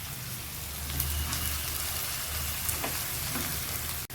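Green spring onions fry in oil, giving a continuous close sizzle and crackle with scattered pops, steady and alone, ending in a brief clatter.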